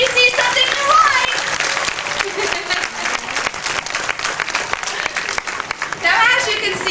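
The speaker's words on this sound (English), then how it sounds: "They do expect a big round of applause anytime you see something you like." A crowd at the Spirit of the Tiger show at Six Flags Great Adventure applauds loudly and steadily for several seconds, fading slightly midway before swelling again.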